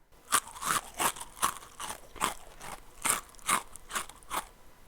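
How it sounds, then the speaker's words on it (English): A dog eating in the corner of a shed gives off a steady series of about ten sharp, crisp crunches at a regular chewing rhythm, fairly faint and with no other sound around them. "A loud crunch comes from the corner of the dog's shed"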